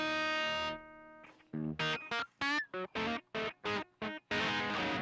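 An electric guitar plays through a hot British-style distortion pedal, a sustained chord followed by a run of punchy, saturated notes and a final crunchy chord, close and loud.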